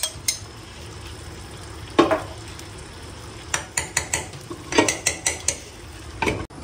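Goat roast curry being stirred and fried with ghee, ginger paste and salt in a pot, with a low sizzle under repeated scraping and clanking of a spoon against the metal pan, close by and without talk.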